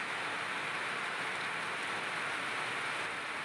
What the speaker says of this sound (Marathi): पाटील निंबाळकर वस्तीवर झालेल्या पावसाचे विहंगम दृश्य त्यांनी आपल्या मोबाईलमध्ये टिपले आहे